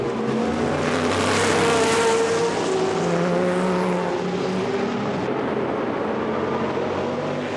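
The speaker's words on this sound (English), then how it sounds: "Diederik using all the power the Corvette has to keep the 458 behind him" Racing cars including a Corvette and a Ferrari 458 roar loudly and continuously on the Zolder circuit during a Supercar Challenge race, engine pitch rising and falling as they pass.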